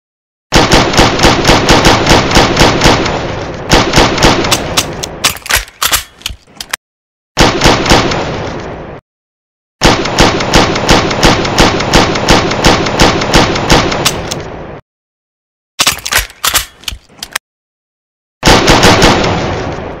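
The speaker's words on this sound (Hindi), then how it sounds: "ठीक है, चलो हम शुरू करते हैं पिस्तौल से। मिनी पिस्तौल है" Mini pistol fire from the video game PUBG rings out in loud, rapid bursts of sharp shots, several volleys separated by short silences, with no voices present.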